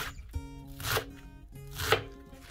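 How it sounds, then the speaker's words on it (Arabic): A knife chops fresh purslane thinly on a board, two distinct bursts of rapid close cutting strokes with a short pause between, clear and without talk. "حاولوا تقطعوها رقيقة،"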